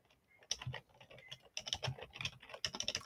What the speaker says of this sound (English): I'm typing in the dark here